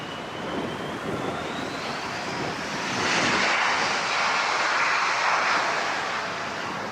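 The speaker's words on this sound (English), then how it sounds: "Let's get a couple of Southwest takeoffs next." A Southwest Boeing 737-7 airliner takes off at LAX, its engine roar building steadily into a loud, broad rush with a rising whine, heard from a distance outdoors without talk.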